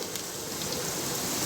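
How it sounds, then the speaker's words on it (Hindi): Onions and cumin fry in a pan for a chicken kaleji masala, making a brief, soft, even hiss of sizzling oil close up. "अब मैं इसके अंदर अपना ये ज़ीरा ऐड कर देती हूँ ताकि प्याज के साथ साथ ये भी फ्राई हो जाए"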